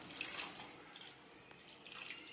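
Water is poured into a pan of partridge curry, a faint splashing trickle that comes in short bursts.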